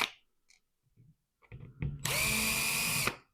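Power drill backing screws out of a split DeWalt tool case: a few quiet clicks and handling knocks, then a short burst of close motor whine lasting about a second, alone with no talk.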